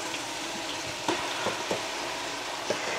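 Golden-brown onions fry with garlic and ginger paste in a pan, a steady close sizzle broken by several sharp stirring scrapes and spoon knocks.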